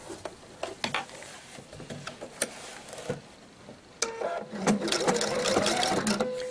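A sewing machine straight-stitches a one-centimetre hem around a mesh shopping bag, first with scattered ticks and clicks, then a steady close-up whirring run of stitching.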